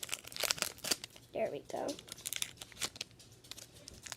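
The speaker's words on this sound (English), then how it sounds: "I'm going to cut open the booster pack." A Pokemon XY Breakthrough booster pack being cut and torn open, with close crinkling and tearing of foil wrapper in two short bursts between bits of nearby speech.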